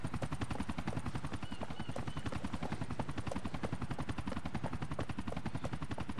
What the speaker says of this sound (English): Yo, Money, there's a chopper turning up.